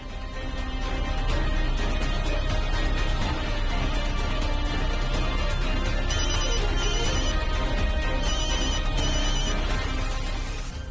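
A telephone rings on and on without being answered, its ringtone steady and loud across the whole stretch, set within the domestic scene of a Hindi TV serial episode.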